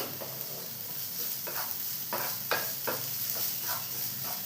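Prawn roast ingredients sautéing in a pan, with a steady soft sizzle broken by several short scraping stirs of a spatula, fairly quiet and close, no talking.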